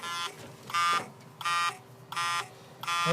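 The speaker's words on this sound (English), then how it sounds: "that's the signal, or the buzzer unit right there" A car seatbelt buzzer unit wired into the turn-signal circuit buzzes in five evenly spaced bursts, each harsh electronic tone pulsing on and off with the flasher rhythm, close and clear with no speech.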